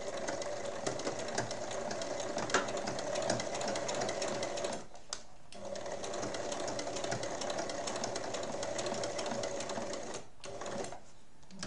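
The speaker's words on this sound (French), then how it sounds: "donc il faut coudre tout doucement" A sewing machine slowly stitches a small half-moon fabric pouch, humming steadily and close, with two brief pauses in the otherwise continuous run.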